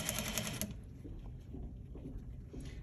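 A sewing machine double stitches the edges of a slant pocket through three layers of fabric, a rapid, fairly loud mechanical run lasting under a second before quieter handling noises follow.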